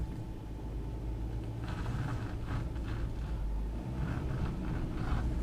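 Hyundai Santa Fe XRT engine held under steady throttle in sport mode while climbing off-road terrain, a low continuous rumble with faint rising surges, close and moderately loud.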